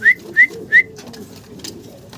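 Andalusian-coloured pigeons at a pigeon seller's call three times in quick succession, each a short, clear, close note, followed by a quieter stretch of soft background noise.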